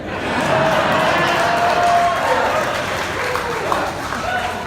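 Studio audience at a Halloween fan game show clapping and cheering, a sustained crowd roar with scattered claps and voices rising and easing over several seconds.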